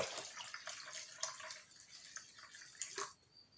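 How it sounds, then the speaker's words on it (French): Half a litre of water poured into a bottle, a light splashing trickle with small drips and gurgles, close and fairly quiet. "on vient rajouter un demi-litre d'eau"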